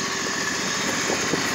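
Grasshopper 226V zero-turn mower with a 26 hp Briggs commercial engine idling, a steady close mechanical drone with even vibration and no speech.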